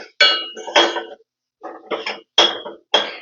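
A spoon stirs Maggi noodles with packet masala in a pan, producing a handful of sharp, close clinks and scrapes in short bursts separated by brief silences.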